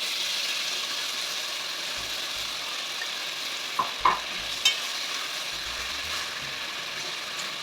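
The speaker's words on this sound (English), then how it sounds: "I'm letting the butter and the sugar turn brown" Butter and sugar sizzle in a pot as they brown into caramel, a steady hiss with a few quick clicks and taps from stirring partway through.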